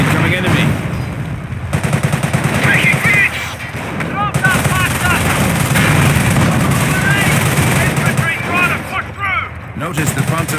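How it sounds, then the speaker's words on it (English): Rapid gunfire and machine-gun bursts in the World War II strategy game Company of Heroes, with a Panzer tank in action, sounding loud and continuous under game music and shouted in-game voice lines. "We're taking fire!"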